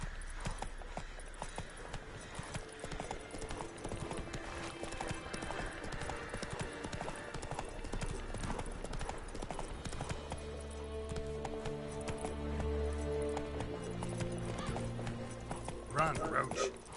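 Hoofbeats of Roach, a horse in The Witcher 3, galloping in a steady rapid clip-clop rhythm, close and continuous, with game music and voices running underneath.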